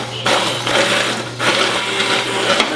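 A kitchen blender whirs in loud bursts as it purées cooked blueberries into a sauce, motor droning with short pauses between pulses, close by with no talking.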